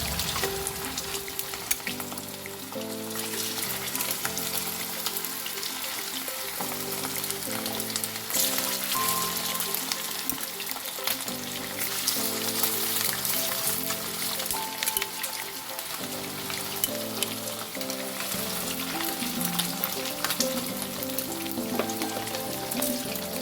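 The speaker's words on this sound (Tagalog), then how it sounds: "Mainit na yung ating mantika mga suki. Pwede na natin lagay yung ating chicken wings. Ayan. I-fried muna natin siya." Chicken wings for a garlic buffalo wings recipe fry in hot oil, a loud, dense crackling sizzle that runs continuously like heavy rain, with no one talking over it.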